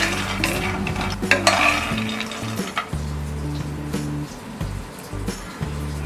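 Peanuts dry roasted in a pan without oil, giving a steady crackling sizzle with stirring scrapes and light rattles throughout, close and moderately loud, with no talking.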